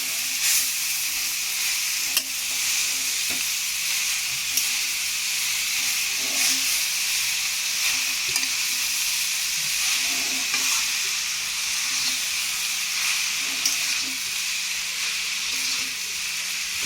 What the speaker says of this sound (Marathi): गाजर परतून घेते चांगलं या